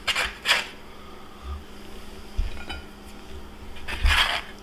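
Peanut butter cookies made with lard are scraped and lifted off a cooled baking pan, giving a few scattered metallic scrapes and clinks over a soft background hiss, with no talking.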